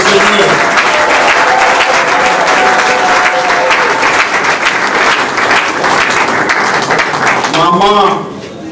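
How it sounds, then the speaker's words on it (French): Loud, continuous applause from a large gathering clapping for the Lord, dense and steady before fading near the end, with voices and cheers mixed in. "Applaudissons le Seigneur."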